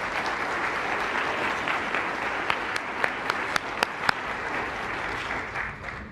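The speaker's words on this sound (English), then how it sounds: "another round of applause as Assistant Secretary Teplitz comes to the" Audience at a State Department event applauding as an official comes to the stage, steady dense clapping from a room full of people with a few sharper individual claps near the middle, moderately loud throughout.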